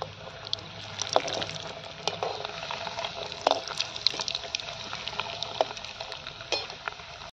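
Gulab jamun frying in hot oil, a steady bubbling sizzle with scattered crackles and pops running throughout, fairly close and moderately quiet, with no talk.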